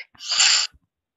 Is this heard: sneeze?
yes